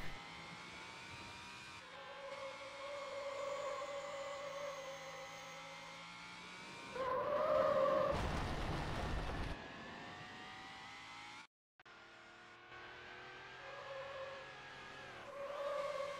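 Sports car engine in the racing game Need for Speed: Hot Pursuit 2, droning and shifting pitch with a louder revving burst midway, a siren-like tone over it and a brief cutout near the end.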